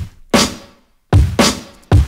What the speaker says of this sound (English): The most common breakbeat pattern is called two-step, and I'll show you how that sounds.